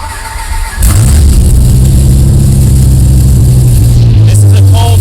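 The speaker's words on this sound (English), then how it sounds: "This is a cold start. It's ridiculous." 1994 Dodge Viper Hennessey Venom 550 with a 700-plus horsepower engine, cold-starting with a sharp crank and catch, then a loud, close, steady high idle rumble that holds to the end.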